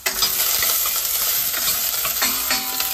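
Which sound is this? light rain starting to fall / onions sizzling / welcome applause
onions sizzling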